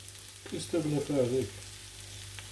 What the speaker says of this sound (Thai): ก็ทอดไฟอ่อน ๆ นะคะ จนเขาสุกได้ที่นะคะ